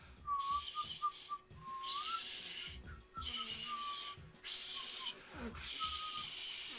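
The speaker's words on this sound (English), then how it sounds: "I'm trying to learn how to whistle." In The Last of Us video game, airy, wavering whistle tones come in short broken bursts over breathy hiss, as if someone is struggling to hold a note.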